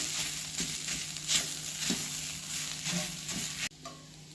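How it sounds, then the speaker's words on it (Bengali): A spoon stirs potatoes and peanuts together in a pan while they fry softly, scraping strokes repeating over a faint sizzle, quiet and near, then briefly cut off. "ভালো করে আমি মিশিয়ে নিচ্ছি আলু আর বাদামটাকে"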